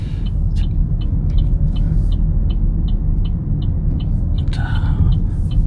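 A car pulling away on the Wonju licence test centre's road-driving course: a steady low engine rumble fills the cabin, with a regular ticking click running over it throughout.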